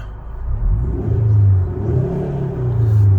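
A 2021 Hyundai Sonata N Line is floored with active sound design set to strong, making a deep, rising and falling engine rumble that swells in waves inside the cabin, loud and alone.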